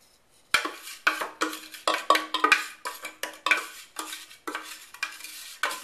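Crumbled Oreo cookie crumbs poured and scraped into a bowl, a series of about a dozen sharp scraping, rattling bursts, each fading quickly, close and clear with no talk.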